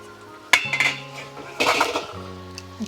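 A metal lid is lifted off a pot of steamed clams with two sharp clanks and rattles against the rim. A steady background hum continues between the clatters.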